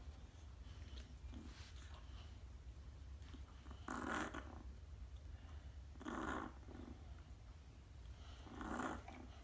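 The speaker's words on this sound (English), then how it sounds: "It's breathing. It's moving its legs, breathing on its own." A tiny newborn puppy breathes on its own after CPR, with soft, rhythmic breaths and small snuffles recurring every couple of seconds, close and faint over a steady low background hum.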